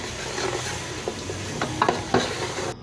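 Chicken, seasoned with salt and turmeric, fries in a pot for yakhni soup, giving a steady close sizzle under repeated scraping stirs of a spoon, with a few louder knocks near the end.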